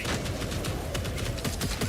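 Rapid, heavy-recoil gunfire bursts in a video game, loud and continuous close-range shots in a fast rhythm with no talk over them.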